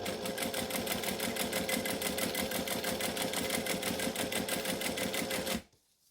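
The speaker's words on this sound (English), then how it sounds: "then I can stitch all the way along this edge." Sewing machine stitching along the edge of a fabric pouch, a fast steady mechanical rattle running loud and continuous for several seconds before cutting off abruptly into near silence.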